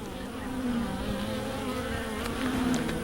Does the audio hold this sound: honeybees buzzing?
yes